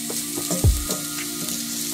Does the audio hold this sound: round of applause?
no